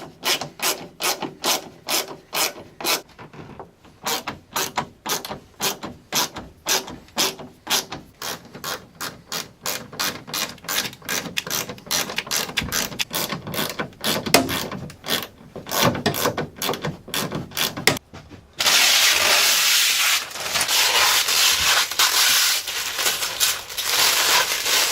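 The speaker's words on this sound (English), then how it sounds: "I'm going to go ahead and tighten up these 4 bolts." A ratchet wrench clicks in quick rapid bursts while tightening windshield mounting bolts on a Polaris XP1K, the close, sharp ticking repeating for a long stretch before giving way to a steady rubbing noise near the end.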